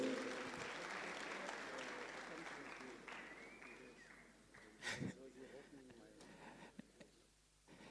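A conference audience at Sun City Resort applauds the Deputy Minister of Planning, Monitoring and Evaluation with a dense roomful of clapping that gradually thins, while a voice talks over it and a louder burst comes near the end.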